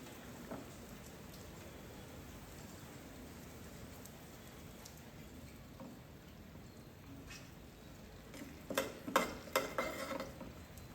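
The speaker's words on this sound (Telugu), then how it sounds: "బయట వర్షం పడుతుంది" Steady soft rain patters outside, a continuous wash of drops, with a few louder crackles and clinks rising near the end.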